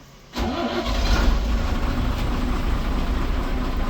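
A bus engine starts up on a forest road, turning over suddenly from near silence and settling into a steady, loud, rumbling run close by, with no voices.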